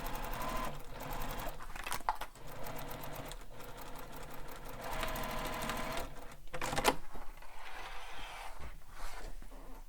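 A sewing machine stitches a piper bag, with a quiet, steady mechanical whir and fine clicking running the full length, plus a few small handling knocks along the way.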